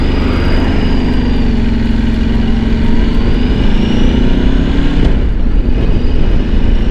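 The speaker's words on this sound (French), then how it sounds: "J'accélère un peu pour voir." A Ducati Desert X Rally motorcycle engine revs up as the rider accelerates, a loud, steady droning rise in pitch that drops back near the end.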